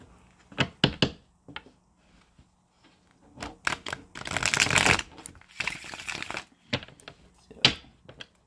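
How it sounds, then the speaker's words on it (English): Tarot cards are shuffled and tapped nearby in quick riffling bursts and scattered soft clicks, with a longer flurry midway and quiet gaps between. "Into the shuffle one more time."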